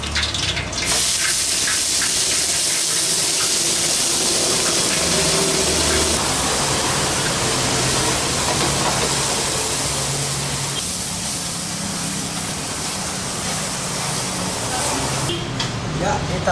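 Indonesian spice paste for semur of snakehead fish and tofu sizzles loudly in a hot pan, a dense, continuous hiss that lasts throughout at close range with no pauses.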